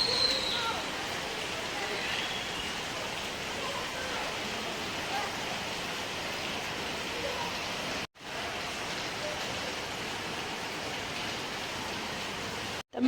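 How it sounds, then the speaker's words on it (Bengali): Light rain falling outside, a steady, dense hiss of drops that holds evenly throughout and cuts out briefly once partway, heard alone. "বৃষ্টি হচ্ছে তেমন একটা না"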